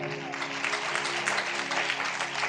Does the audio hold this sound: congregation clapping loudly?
yes